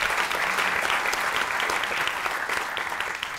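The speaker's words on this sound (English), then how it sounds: "That's also worth applauding." Alumni Weekend audience at Penn applauding President Amy Gutmann; steady, dense clapping from a sizable crowd throughout, fairly distant and even in loudness.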